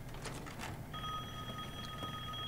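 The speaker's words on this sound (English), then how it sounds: "but she can hear the telephone ringing." Telephone ringing in the horror game Resident Evil Village: a steady electronic tone that starts partway through and holds, fairly faint beneath a low ambient rumble and a few soft thuds, no talk.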